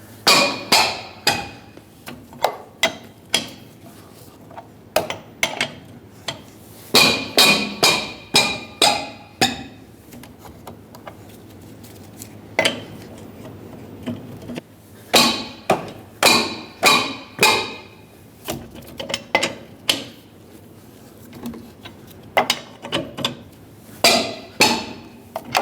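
A wrench breaking loose the lug nuts on a 2006-2011 Honda Civic wheel, heard as sharp metallic clanks and knocks in irregular clusters with quiet gaps between.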